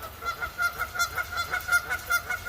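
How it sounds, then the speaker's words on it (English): A goose honks repeatedly in a steady rhythm outdoors by a lake during a windy, rainy fishing outing, the calls clear and moderately close with no talking. "That's a goose."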